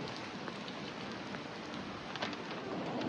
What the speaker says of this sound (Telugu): ఫుల్ వర్షం అయితే పడుతుంది బయట